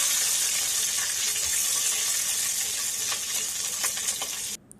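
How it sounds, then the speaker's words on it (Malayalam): Chopped onion sautéing in a pan after mustard seeds have spluttered, for semiya uppumavu: a steady, close, bright sizzle throughout with light stirring scrapes, cutting off abruptly near the end. "ഒരു വലിയ ഉള്ളി ചെറുതായി കഷ്ണം മുറിച്ച് വെച്ചിട്ടുണ്ട്. അത് ഇതിലേക്കിട്ട് വഴറ്റുന്നുണ്ട്"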